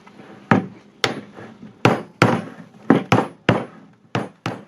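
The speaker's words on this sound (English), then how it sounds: "sometimes it might be helpful to take a bigger hammer to it." A bigger hammer pounds a tight plastic bucket lid, about ten heavy, spaced thuds with short ringing decays, close and unaccompanied by speech.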